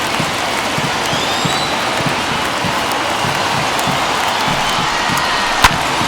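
Stadium crowd in MLB The Show 21 during an Angels vs Athletics game, a steady dense roar of cheering and applause from a large audience, broad and constant throughout with one sharp crack near the end.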